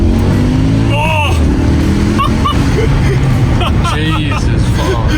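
A Porsche Cayenne Turbo S, a twin-turbo SUV weighing about two tons, accelerates hard with a loud, steady engine roar and rising tones, while voices and exclamations carry on over it throughout.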